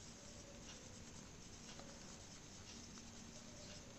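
Pen scratching out the word for accounting conventions, faint scritching strokes in short bursts over a quiet room hum, no one talking.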